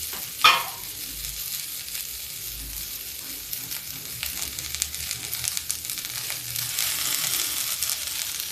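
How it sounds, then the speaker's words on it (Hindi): Chopped ridge gourd drops into onions frying in a pan, a brief clatter followed by a steady soft sizzle that grows slightly stronger toward the end, with no voices. "प्याज भून रहा है, अब इसमें हम डाल देते हैं तरोई"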